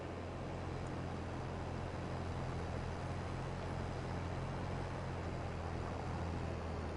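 Tractor engine in Farming Simulator 22 labouring under a plow, a steady low drone with a constant hum that holds evenly for the whole stretch, moderately loud and with no talk over it.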